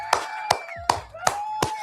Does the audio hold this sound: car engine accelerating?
no